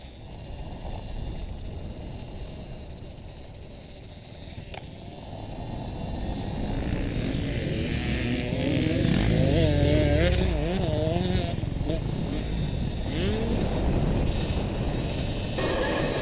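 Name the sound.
Apollo RFN Ares Rally Pro electric dirt bike riding on MX track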